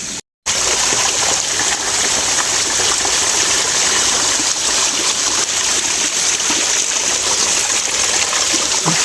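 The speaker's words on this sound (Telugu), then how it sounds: "ఇక్కడ ఒక ట్యాంక్ కట్టారు, వాటర్ అయితే ఇక్కడి నుంచి వస్తున్నాయి" Water from a spring runs steadily into a tank at the Bathinaih Swamy temple, a loud, continuous rushing close to the microphone after a brief cut at the start.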